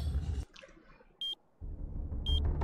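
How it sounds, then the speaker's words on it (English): Two short, sharp electronic transmitter beeps in the game Powerslave/Exhumed sound about a second apart, set against low rumbling and watery background noise. "Do you hear that beeping?"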